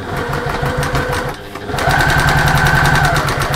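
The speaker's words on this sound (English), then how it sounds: "Stitching a turning gap closed doesn't take long at all." A sewing machine stitching a turning gap closed, a close, loud, fast rhythmic whir of the needle that pauses briefly and then resumes at a steady pace.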